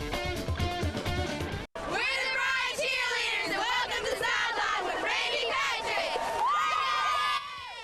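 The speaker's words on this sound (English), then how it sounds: "Big crowd tonight at Bryant High School" A big crowd at a Bryant High School football game cheers, whoops and yells continuously, with high young voices prominent, loud and close, after a brief cut.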